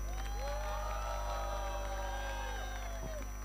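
Crowd cheering and whooping at a cricket league closing ceremony at the Satara Club, a brief, fairly faint swell of voices over a steady hum.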